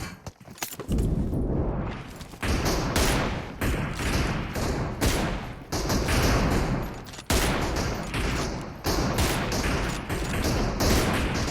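Dense gunfire rattles through a PUBG match as rapid bursts of close shots follow one another almost without pause, each volley loud and punchy, with brief gaps between strings of fire.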